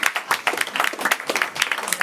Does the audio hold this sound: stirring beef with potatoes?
no